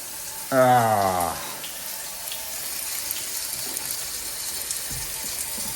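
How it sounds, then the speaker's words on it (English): Steady broadband rush of running water, like a tap left on, continuing for several seconds after a brief harmonic tone near the start, heard during race season preparations. "Why do I still hear water?"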